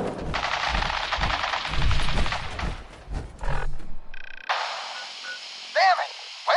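Rapid bursts of automatic gunfire and shots from a firefight in Fallout 4, loud and dense in the first half and then broken into scattered shots, with voices talking and shouting over the combat.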